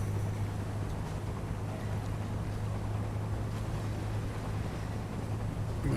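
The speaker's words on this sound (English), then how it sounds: "Sounds like the engines are barely turning. Yeah, it's these tugboats." Tugboat engines in the Seafarer video game churn at a slow, barely turning pace, a steady low drone with a washing water-like hiss that holds evenly throughout.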